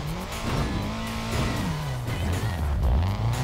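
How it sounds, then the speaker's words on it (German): A car at full throttle in TrackMania 2 Valley: a loud, continuous engine roar whose pitch climbs and shifts with gear changes, with no speech over it. "Und jetzt Vollgas hier nach oben."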